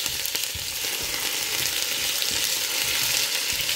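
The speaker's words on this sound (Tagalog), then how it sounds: "yung isunod ko po dito iprito is yung carrots." Carrots frying in a pan of hot oil for chicken caldereta, a steady bright sizzle with occasional soft stirring scrapes, close and continuous with no talking.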